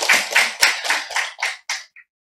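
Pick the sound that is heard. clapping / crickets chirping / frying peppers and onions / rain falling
clapping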